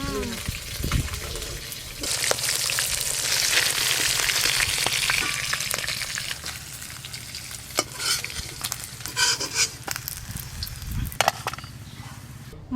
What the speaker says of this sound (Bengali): এই মাছগুলো বেশ লাল করে ভাজা হয়ে গেছে।